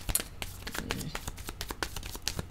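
Tarot cards riffle and slap in quick, crisp bursts of shuffling close to the listener, with a faint voice in the background.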